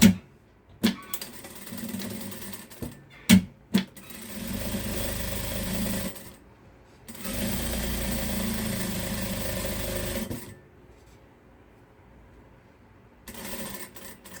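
A sewing machine stitches the back seam of a handmade fabric capybara toy, running in several sustained bursts of a few seconds each, separated by short pauses and brief clicks, with a quieter stretch near the end.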